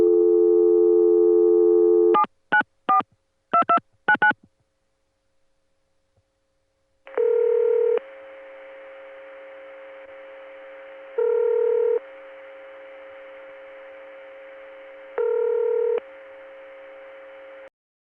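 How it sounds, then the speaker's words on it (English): A steady tone gives way to a quick run of touch-tone dial beeps, then after a pause a PBX line hum with carrier noise and three evenly spaced ring bursts, from a 794 PBX in Columbia, South Carolina, 1980. "Then, the sound of the PBX comes on with carrier noise, and in this case, ring"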